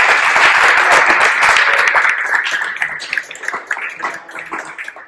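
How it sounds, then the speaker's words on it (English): A room of audience members at a Web3 stablecoin talk claps loudly, a dense round of applause that thins and fades to scattered individual claps by the end. "let's give a round of applause for Adrian."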